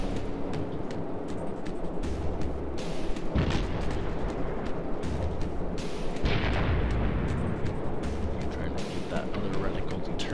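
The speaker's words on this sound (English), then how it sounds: "Now I can use all 4 of my guns. You see my 4 shots go out." Warship main guns fire in World of Warships, heavy booming salvos over a constant rumbling game background, with sharp blasts at intervals and someone talking throughout.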